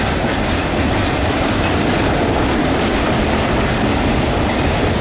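Norfolk Southern manifest freight train 192, led by SD80MAC, CW44-9, SD70M-2 and SD60M locomotives hauling 112 cars, rumbles past close by with a loud, constant roar and wheel clatter, no voices.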